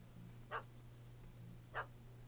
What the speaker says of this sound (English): It's a tiny dog.